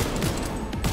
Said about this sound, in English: I'm shooting everything else but her.